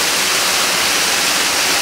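A waterfall roars loudly and steadily, a dense broadband rush of falling water heard from close by, with no voices over it.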